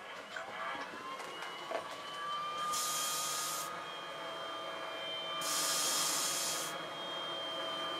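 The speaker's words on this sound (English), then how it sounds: "now let's flick on the PAPR." A C420 powered air-purifying respirator blower runs with a steady whirring hum under faint background noise, joined by two longer hissy rushes of airflow a few seconds apart.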